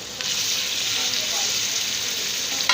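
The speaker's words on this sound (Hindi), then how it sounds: "दरमियाने साइज के 2 टमाटर ये शामिल कर दिए।" Finely chopped medium tomatoes hit a hot oiled pan for a chicken feet curry, setting off a loud, steady sizzle and frying hiss that runs unbroken throughout, with a brief stir near the end.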